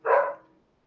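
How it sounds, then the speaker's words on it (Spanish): A small female dog lets out a single short bark, close and moderately loud, that fades quickly into silence. "Disculpen mi perrita que está ladrando."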